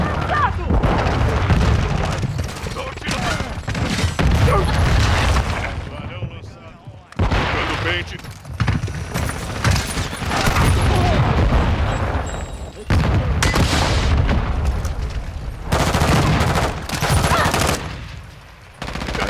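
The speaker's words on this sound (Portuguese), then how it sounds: "Granada lançada!" Grenade explosions and heavy gunfire in Call of Duty MWII multiplayer on the Shipment map: loud, nearly continuous booms and rattling bursts fill the whole stretch, with brief dips between heavy blasts.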